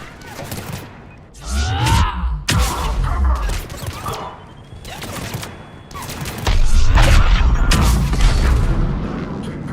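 Gunfire erupts in a Mass Effect 3 firefight at the Ardat-Yakshi Monastery, heavy rolling bursts and deep booms crowding one after another, loud and close, with a few brief voices mixed into the shooting.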